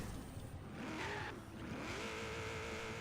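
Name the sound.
car engine in racing video game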